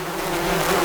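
Steady droning buzz of bees, continuous and fairly loud, with a low hum holding throughout and no voices.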